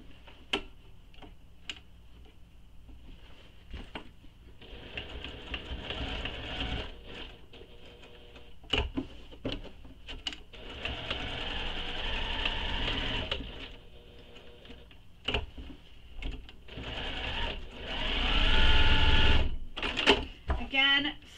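A sewing machine backstitches to lock stitches on a Somers crossbody bag, running in bursts of fast rhythmic ticking that swells loud near the end, with talking across much of it.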